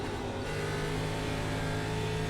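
A heavily damaged ARCA Menards Series race car at Indianapolis in iRacing, its engine droning loud and steady with a faint rise in pitch over a couple of seconds, no voices.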